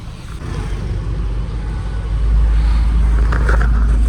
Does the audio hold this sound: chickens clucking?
no